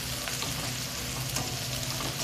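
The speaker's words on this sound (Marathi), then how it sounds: "ह्याला आणखी 2 मिनिटं हलवून घेऊयात आपण" Cluster bean (gavar) bhaji with green chillies and turmeric frying in a pan, a continuous close sizzle with faint scraping from stirring and no talking.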